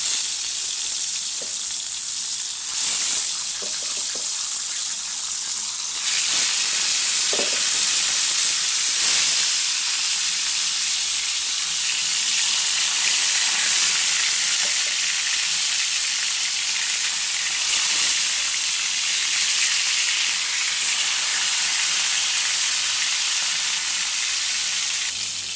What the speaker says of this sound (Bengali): মাছগুলো আস্তে আস্তে তেলে ভাজবো।